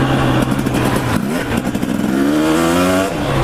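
A light motorcycle engine revs loudly and close, its pitch dipping and then climbing steadily in a continuous drone.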